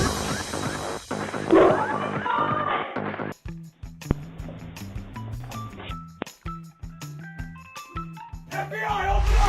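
Dogs bark and yip at police officers in CCTV footage, a loud burst of overlapping barking at first, then sharp separate barks and whimpers spaced out against quieter background.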